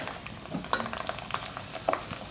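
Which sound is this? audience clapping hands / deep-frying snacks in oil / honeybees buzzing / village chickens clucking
deep-frying snacks in oil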